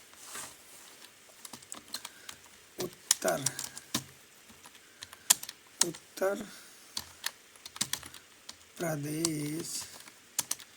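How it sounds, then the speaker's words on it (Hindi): Rapid key clicks on a computer keyboard during a Hindi Mangal font typing test, bursty and close, with a voice speaking over the typing at times. "यहाँ से हमने स्टार्ट कर दिया टिक लगा के, और ये हमारी टाइपिंग स्टार्ट।"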